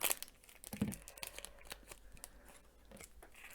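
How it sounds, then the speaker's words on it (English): Quiet, close paper handling: scattered crinkles, rustles and small tearing sounds come in irregular bursts, with a few louder crackles. "Sorry for any rustling."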